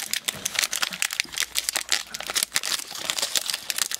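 The foil wrapper of a Pokémon Radiant Destinies booster pack is crinkled and pulled open in a quick series of sharp, close rustles and crackles with brief tearing sounds, and no one speaks.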